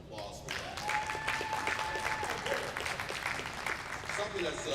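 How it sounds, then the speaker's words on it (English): Audience at a Knights of Peter Claver gala in a Catholic church applauds steadily, a dense wash of clapping with a few voices mixed in, sustained throughout. "I think he deserves a round of applause for that"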